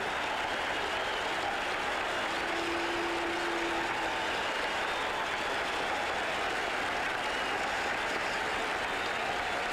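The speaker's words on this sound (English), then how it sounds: "let's listen to the ovation for Yastrzemski" A steady, sustained ovation from the crowd at Fenway Park for Yastrzemski during the 1978 Yankees–Red Sox playoff game, a dense wash of applause and cheering with no break.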